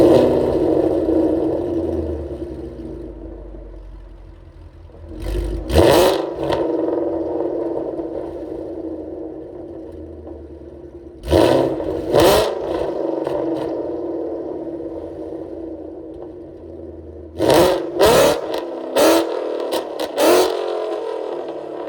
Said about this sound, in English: This is gonna be the interior revs.